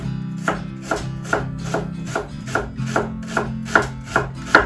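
A knife slices down through a whole onion that has been cut into a lattice, giving about ten evenly spaced crisp chops on a board, close and clear with no talking.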